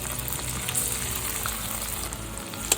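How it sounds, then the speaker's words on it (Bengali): Spice paste of ground ginger, cumin and dried chilli with soaked turmeric fries in hot oil, giving a dense, continuous sizzle with crackling spatters and one sharp pop near the end. "মশলা দিয়ে যখন ভাজবো তখন অনেক ছিটে ছিটে আসবে। এবার মশলা দেবো।"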